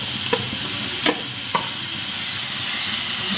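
Tadka tempering sizzles steadily in a home kitchen pan, a continuous broadband hiss with a few sharp spits and pops near the start, fairly close and alone without talk.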